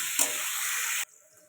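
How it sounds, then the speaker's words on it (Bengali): Okra, potato and shrimp curry frying in a pan gives a bright, steady sizzle that cuts off abruptly near the end, leaving quiet. "লবণটাও দিয়ে দিলাম। এবার এটা ভালো করে ভাজতে থাকবো।"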